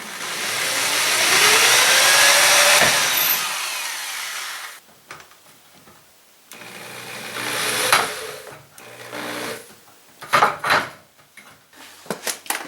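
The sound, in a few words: power drill drilling pilot holes for closet door track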